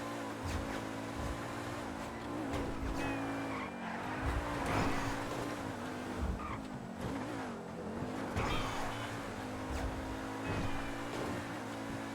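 Tires squeal and skid as a car swerves and fishtails through city streets in GTA V Online, with steady engine drone running underneath the whole time.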